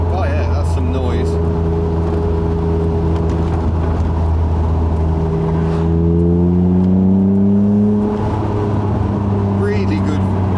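Honda NSX engine revving hard through the mid-range with the window open, a loud droning note with rising and falling harmonics climbing steadily, heard from inside the car.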